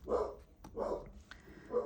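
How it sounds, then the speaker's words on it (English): A dog barks three times in quick succession, the moderately loud barks evenly spaced against an otherwise quiet indoor background. "Again, apologize for my dog."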